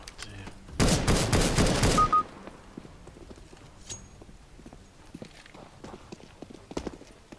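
In the video game CS:GO, a bomb is planted and a smoke grenade is thrown: one loud, dense hissing burst of a little over a second, followed by quieter scattered game clicks and thuds.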